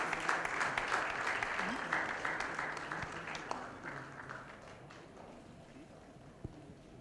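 Applause from a press-conference audience during a felicitation, dense clapping that starts moderately loud and gradually fades over several seconds, with a few isolated claps and background voices toward the end.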